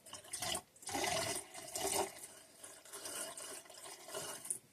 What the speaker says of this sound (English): I just want some down the drain because the P-trap in there is filled with water, so just dump a little bit down.